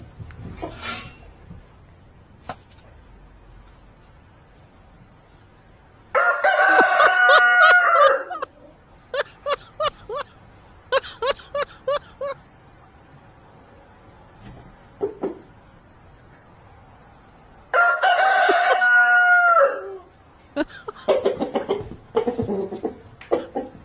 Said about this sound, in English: somebody has a pet rooster